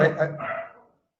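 A dog gives a short, close bark or two that fade out within a second, heard during a phone-style conversation about vineyard fertilizer, with a voice overlapping at the start.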